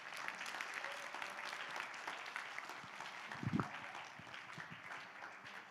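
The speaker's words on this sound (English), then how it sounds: "can I get one more round of applause for the panel?" An audience at a conference session applauds a panel, a dense wash of many hands clapping at moderate distance, steady throughout with a brief low thump near the middle.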